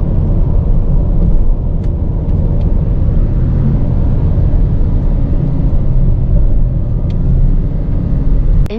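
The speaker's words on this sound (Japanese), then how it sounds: "意味もなくシフトダウンしますか。" Toyota Alphard with a 2.5L gasoline engine cruising at highway speed and downshifting, heard from inside as a loud, steady rumble of engine and road noise with no distinct rev change standing out.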